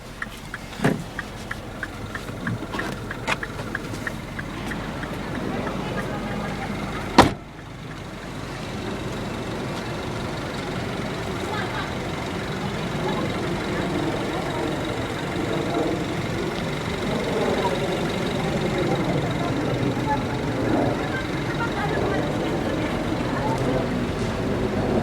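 A 2010 Mini Cooper S fires up with a sharp crank and catch, then settles into a steady, fairly loud idle with a continuous low engine rumble heard close by for the rest of the stretch.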